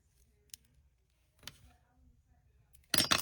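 Crochet yarn is snipped with scissors to leave a tail, giving a couple of faint close clicks in near silence, followed by a louder rustle at the end.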